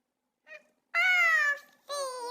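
A cat meows several times, a short faint mew followed by two long, loud, drawn-out meows, close and alone.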